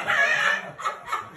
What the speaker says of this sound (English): Young hen.